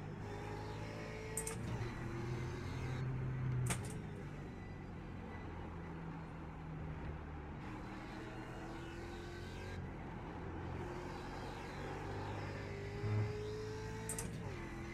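A torquey road car drives along at a steady pace, its engine a low, even drone under constant road and wind rumble from inside the cabin, with a few faint brief clicks and no talk.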